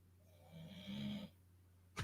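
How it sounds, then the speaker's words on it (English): A dog snores loudly nearby, one long rasping breath that rises and then trails off, over a steady low background hum. "can you guys hear my dog snoring? Is that audible? Because it's really fucking loud."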